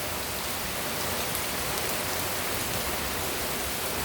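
Steady rain falling in Jamaica, a dense, even hiss of drops on surfaces that runs unbroken and fairly loud throughout, with no voices.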